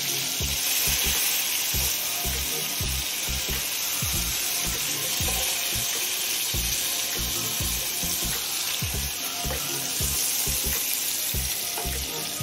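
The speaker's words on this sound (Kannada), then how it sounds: "ಹಾಗೆ 2 ಕಡೆಯೂ ಚೆನ್ನಾಗಿ ಅದನ್ನು ಫ್ರೈ ಮಾಡಿ" Eggs with green chillies fry in a pan for an egg green chilli fry side dish, giving a loud, continuous sizzle with dense crackling throughout and no voices.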